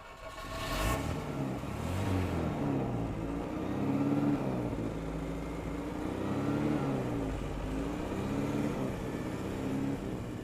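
A Citroën DS21 Pallas with a column-mounted manual gearbox starts up and settles into a steady idle, its engine humming and throbbing evenly with slight waver, heard close from inside the car without talking.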